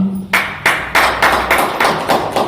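Rhythmic hand claps at a seminar, about eight sharp strikes in steady succession, fairly loud and close, with no voices.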